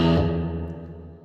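A guitar note swells with heavy reverb, a single bright attack that blooms and then decays slowly into a long washed-out tail, heard alone.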